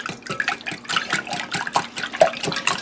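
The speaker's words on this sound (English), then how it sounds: "A little salt, that's enough, and we're just going to whisk them." Eggs being whisked with a pinch of salt in a bowl for a slow-cooker breakfast casserole, a quick steady run of clicky, wet beating strokes, close and continuous with no talking.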